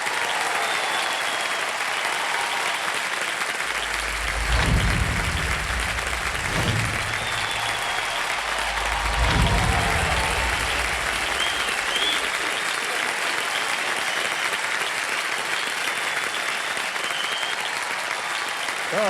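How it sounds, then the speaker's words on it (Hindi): Sustained studio audience applause on a TV quiz show set, steady and full for the whole stretch, with low music swells partway through and no talking over it. "जोरदार तालियां बज जाए।"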